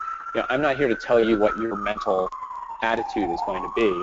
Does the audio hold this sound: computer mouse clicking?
no